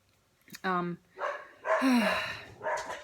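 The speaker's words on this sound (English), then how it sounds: "Dogs are going crazy." Dogs bark at a crystals workshop: a few sharp, loud barks in quick succession, close by, with short quiet gaps between them.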